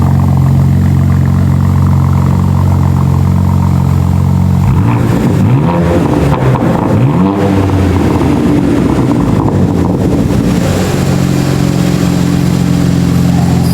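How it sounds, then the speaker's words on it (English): A BMW M2 G87 fitted with an AWE Track Edition exhaust idles loud and deep after a cold start, with a throaty drone that swells through a few revs mid-stretch before settling back to a steady rumble, no talk. "That was a cold start. It was pretty loud."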